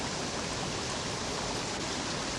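Water spills over a small waterfall below an opened sluice at an old ochre works, a steady, faint, even rushing hiss with no pauses or other sounds.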